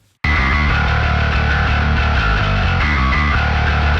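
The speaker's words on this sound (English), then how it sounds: "now you can hear things get really dirty and saturated" A dense music mix heavily distorted by analog outboard EQ saturation bursts in and stays loud throughout, its tone gritty and saturated with harsh overtones.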